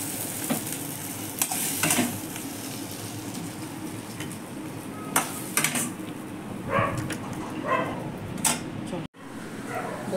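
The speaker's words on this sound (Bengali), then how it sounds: "এরকম করে মশলাটা ভালো করে ভেজে নেব, তাহলে খেতেও ভালো লাগে।" Spice paste sizzles and fries in a pan for a stuffed teasel gourd dish, with steady crackling and occasional stirring scrapes close by, briefly interrupted near the end.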